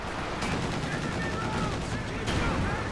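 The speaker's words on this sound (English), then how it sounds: "Pack howitzer firing." Pack howitzer firing in the real-time strategy game Company of Heroes 2, with sharp booming shots and battle gunfire rattling under a commentator's voice, two louder blasts standing out against the continuous combat noise.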